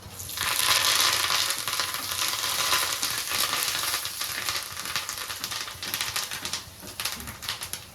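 Curry leaves dropped into hot oil with a pinch of asafoetida for a raw mango pickle tempering, an intense close spitting sizzle that is loudest at first and then gradually settles into sputtering crackles.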